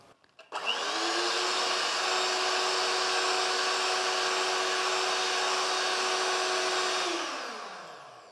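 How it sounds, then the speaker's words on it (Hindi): An electric hand beater whirs steadily as it whips egg whites with powdered sugar for macarons, starting abruptly after a brief clatter and holding a loud, even motor whine before winding down near the end. "अब हम अंडे की सफ़ेदियों को बीट करेंगे और इसमें पाउडर चीनी डालेंगे और नमक डालेंगे"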